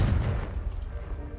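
Confringo blasting spell in Hogwarts Legacy, a short, heavy, low boom that rumbles and fades over about a second and a half.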